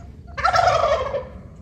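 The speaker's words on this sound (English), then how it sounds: "I bet you boys caused the lady turkeys to swoon." A wild turkey lets out one loud, close gobble, a rapid warbling burst lasting about a second, with no talking around it.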